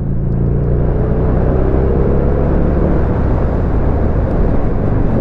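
A Buell XB12X motorcycle riding through turns, heard as a steady loud rumble of engine and wind noise that stays dense and continuous the whole way through.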